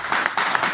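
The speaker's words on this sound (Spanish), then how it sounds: "Dale un aplauso al Señor entonces" A short burst of clapping from a church congregation, with a few distinct claps standing out over a continuous patter.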